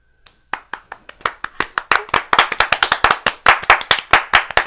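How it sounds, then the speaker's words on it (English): A single person claps hands in a quick, fairly steady rhythm, each sharp clap close and distinct, starting slowly and speeding up into a brisk run of slaps. "I'm that guy who claps in an audience."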